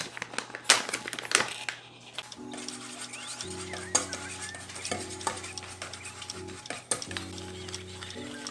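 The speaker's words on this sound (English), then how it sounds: "4 tablespoons of melted butter, 1 egg. Whisk this up." Melted butter and an egg whisked together for keto snickerdoodle cookie batter, heard as quick clinking and scraping strokes against a bowl, close and fairly quiet, with intermittent sharper taps and no voices.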